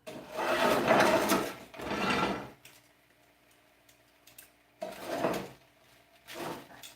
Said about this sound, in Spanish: ¿Están escuchando cómo está empezando a rechinar el comal?